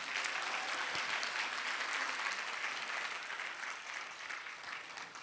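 An in-person audience claps in a dense, sustained round of applause, loud at first and easing slightly toward the end, with no voices standing out.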